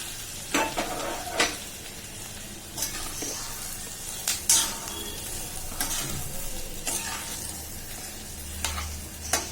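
Carrot halwa made with jaggery, stirred in a pan over a steady sizzle of frying, with soft scrapes and occasional sharper knocks against the metal, close up and without talk.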